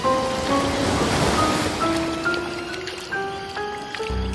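Rushing sea water in a Sindbad story, a broad washing surge of waves that swells and fades, with soft tonal music notes layered over it.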